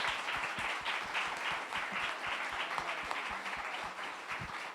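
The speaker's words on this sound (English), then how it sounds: "Big round of applause." A panel-discussion audience applauds steadily throughout, a dense wash of clapping with individual hand claps audible near and far.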